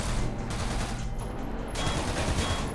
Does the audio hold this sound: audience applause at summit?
no